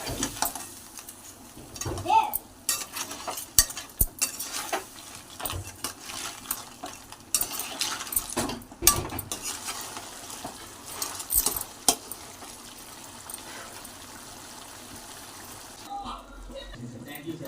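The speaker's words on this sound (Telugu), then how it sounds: "ఇప్పుడు బాగా ఫ్రై చేసుకోవాలి కొద్దిగా మసాలా వచ్చేదాకా ఫ్రై చేసుకోవాలి" Nellore-style crab masala frying in oil in a pan, with irregular scraping and clanking stir strokes over a low sizzle, close up, while someone speaks at times.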